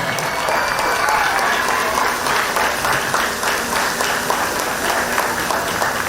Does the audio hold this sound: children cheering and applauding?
yes